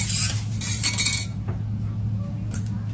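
Cherry flavoring stirred into a hand-made candy mixture, with close metallic clinks and scrapes of a utensil against the bowl.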